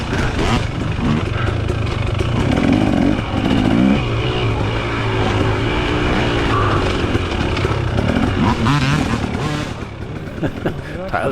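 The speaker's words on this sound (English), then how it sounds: "Tyler's not messing around getting on that throttle." A dirt bike races in a hare scramble, its engine revving hard and steadily with rising and falling throttle bursts, close and loud throughout, while a person talks over it.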